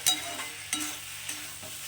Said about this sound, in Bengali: আমি এবার একটু গ্যাসটাকে বাড়িয়ে দু তিন মিনিট একটু এটাকে ভেজে নেবো